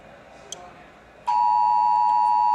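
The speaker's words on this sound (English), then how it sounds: "That was my phone." A loud, steady electronic buzzing tone starts abruptly partway through and continues to the end, following a stretch of quiet background noise.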